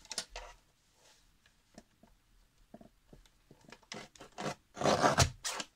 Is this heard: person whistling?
no